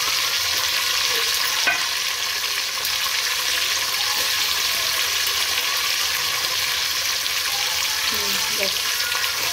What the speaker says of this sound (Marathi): हा राई जिरा पण टाकायचं। हा बस जिरा आवश्यक टाक।